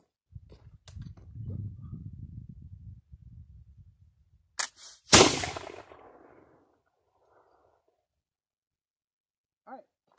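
A Brown Bess flintlock musket goes off in one sharp crack, preceded by a quick click of the lock, then a short rumbling decay, following low speech and ending in near silence.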